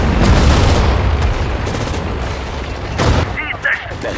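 Booming explosions and bursts of gunfire in the World War II strategy game Sudden Strike 4 during the German Operation Barbarossa campaign, loud and dense, with a sharper blast near the end.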